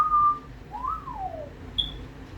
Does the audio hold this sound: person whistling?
yes